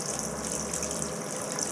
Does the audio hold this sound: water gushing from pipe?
yes